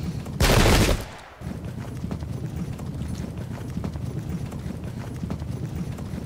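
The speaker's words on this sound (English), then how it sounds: "here comes the parliamentary horse on the side." Cavalry horses gallop in the Pike and Shot strategy game as steady, rapid hoofbeats run throughout, with a loud, sharp volley-like burst near the start.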